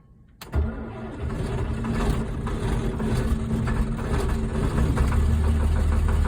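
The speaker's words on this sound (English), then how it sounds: "the tractor starts." A John Deere 4240 tractor engine cranks and catches, then settles into a steady, loud low rumble of idling that continues to the end.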